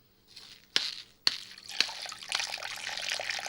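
Water poured onto garden plants: a few sharp splashes and drips at first, then a steady, soft trickle and patter of water landing on leaves and soil, fairly quiet and close.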